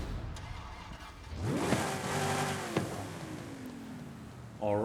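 A Ford Mustang Boss 302 in Forza Horizon 5 cranks and fires up, then revs in a rising sweep and settles into a throaty idle, with a sharp blip and another rev at the end.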